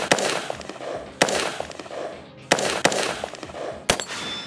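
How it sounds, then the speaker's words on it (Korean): Gunfire on a shooting range during a competition with rotating targets, several sharp loud shots in an irregular series, each with a short echoing tail. "승부는 결정됐지만 조라 대원 계속 사격하고 있고요."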